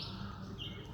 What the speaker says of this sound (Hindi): ये पक्षियों की कलकल की आवाज़